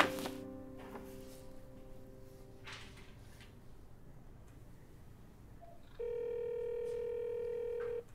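A mobile phone being dialed: a few short electronic keypad tones at the start, a pause, then a long steady ringback tone that holds for about two seconds, fairly quiet in an indoor setting.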